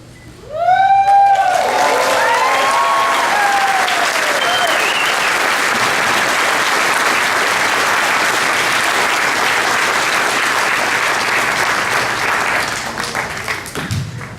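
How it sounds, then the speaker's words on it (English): Loud, sustained applause from a large crowd at a graduation ceremony, starting abruptly and continuing steadily for over ten seconds; a few shouts and cheers rise at the start. "would everyone please join me in one more round of applause"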